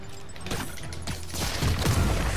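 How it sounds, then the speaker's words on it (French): A web explosion from the Marvel's Spider-Man video game bursts as a broad, crackling blast that swells and thickens toward the end, loud and continuous, with no talk over it. "Mais pourquoi ça fait une explosion de toile?"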